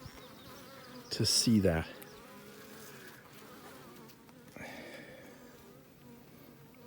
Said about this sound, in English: See this, just one aggressive bee.